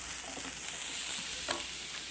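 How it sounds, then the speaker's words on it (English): Grated carrot cooking in a pan for veg momo filling gives a steady, moderate frying sizzle with light stirring scrapes and one brief sharper clatter, no voices. "again we are going to add the grated carrot, and again we are going to cook this"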